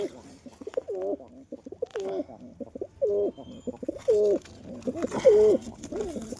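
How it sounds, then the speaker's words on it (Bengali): A pair of Giribaz pigeons coo close by in repeated soft, throaty phrases, with a few louder rolling coos near the end. "যে কবুতরটা জোড়া দিলাম সেই কবুতরটার জোড়াটা তোমাদের দেখাই।"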